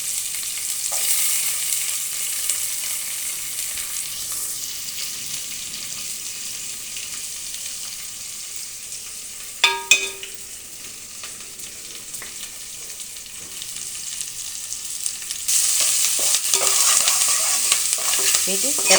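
Chopped onion, curry leaves and seasoning seeds fry in hot oil with a steady close sizzle, a brief clatter of stirring midway, and the frying grows louder near the end.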